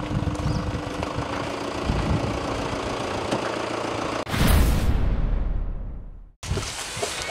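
A car engine idles with a steady clattering, rattling note after being put into gear, interrupted by a brief louder surge and a cut before the clatter returns.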